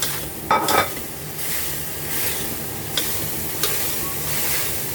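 Morning glory stir-fried in a wok with a little water added, giving a steady close sizzle and bubbling, broken by a few sharp clinks of a utensil against the pan.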